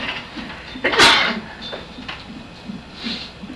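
A single sharp sneeze bursts out near the mic about a second in, set against a quiet room with faint background murmur.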